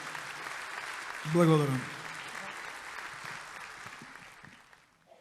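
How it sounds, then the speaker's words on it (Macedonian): At a concert marking Nikola Badev's 100th birth anniversary, the audience gives soft, steady applause that sounds somewhat distant, while one person speaks a single short word over it. "еден аплауз за Никола Бадев"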